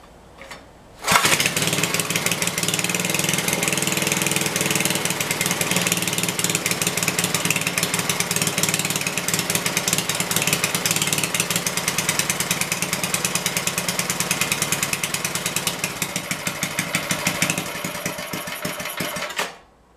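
A Montgomery Ward GIL-1580 G riding lawn mower engine, reportedly running a little rich, roars to life and holds a loud, steady drone for about sixteen seconds before it cuts out abruptly.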